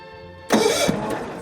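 A Bolens HT20 garden tractor engine warms up while running, with an unhappy float valve and possible blow-by past the intake valves. A steady low hum is broken by a sudden louder, rougher burst that stays loud until the end.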